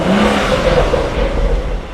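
A BMW M-series performance engine, freshly fitted with a new valve cover, runs with a deep, steady rumble and a low whir at close range, holding a fairly even loudness throughout with no talking.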